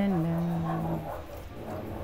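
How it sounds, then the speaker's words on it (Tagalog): Dogs whimper and yip nearby with a drawn-out whining cry at the start, followed by softer background noise. "Ingay tuloy yung mga aso."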